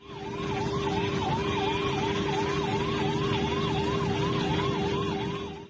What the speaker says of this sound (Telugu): వెనుక అంబులెన్స్ సైరన్ వినబడ్డా కూడా లెక్క చేయకుండా పోతాండులా సైడ్ ఇవ్వకుండా